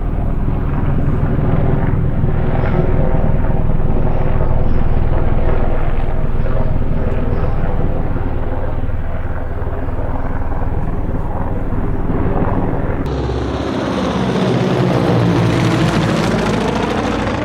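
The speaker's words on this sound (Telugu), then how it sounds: "ఇక్కడ నుండి ఒక్కో ఆస్ట్రోనాట్ని హెలికాప్టర్ ద్వారా మెయిన్ షిప్లోకి తరలిస్తున్న దృశ్యాలు" A helicopter ferrying astronauts from the splashdown area to the main recovery ship after the NASA Artemis II mission, its engine and rotor giving a steady, loud drone that holds throughout and shifts in tone near the end.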